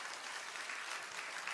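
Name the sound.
congregation applause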